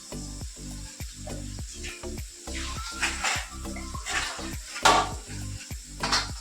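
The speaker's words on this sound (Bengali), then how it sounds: "প্রথমে আলু উচ্ছেটা ভাজা হচ্ছে" Potato and bitter gourd frying in a pan at home, with a steady near sizzle under repeated rhythmic clinks and scrapes of a utensil against the pan.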